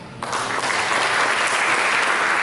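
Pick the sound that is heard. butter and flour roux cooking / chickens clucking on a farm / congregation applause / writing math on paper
congregation applause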